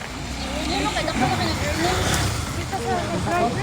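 Road traffic passing by, a steady roar of cars and trucks with engine noise rising and falling throughout, close and loud, with faint voices in the background.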